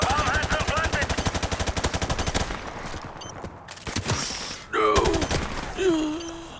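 Rapid automatic gunfire from a Call of Duty Modern Warfare Remastered custom terrorist-hunt match: a loud, dense burst of shots for about two and a half seconds, then sporadic shots and game noises.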